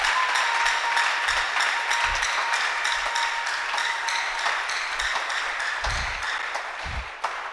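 A church congregation claps steadily and rhythmically in lively praise, a dense wash of applause with low thumps, and no voice is heard over it.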